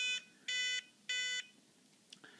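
A model airplane timer, switched on for programming, emits three short, even electronic beeps close by, followed by faint clicks and quiet handling noise.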